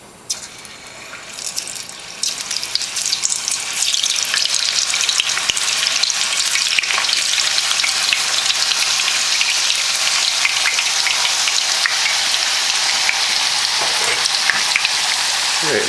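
Thin homemade potato slices frying in hot oil, a loud dense rain-like sizzle that swells after the first couple of seconds as slices drop in one at a time, then holds steady, no speech.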